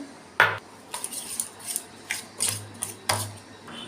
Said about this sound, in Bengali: আর এখন এই টক দইটা দিয়ে আমি মেখে নেব